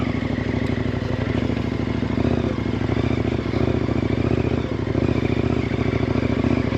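A dual-sport enduro motorcycle engine climbs a hill off-road, a loud, steady close drone with light clatter and slight throttle swells throughout, no talking.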